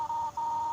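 An electronic telephone call tone in a strange French-played RPG video game: a steady, mid-pitched beep that breaks briefly once and then continues, clear and close, with no voice over it.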